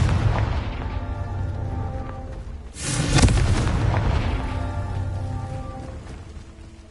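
Confringo explosion spell in Hogwarts Legacy, one sharp burst landing midway that flares bright and loud before decaying into a rumbling tail, set against a steady ambient drone of the game.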